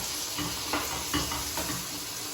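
Tomatoes sizzle in a hot pan, a soft, steady fizz broken by a few regular swells as the mix is stirred, fairly quiet and without talk.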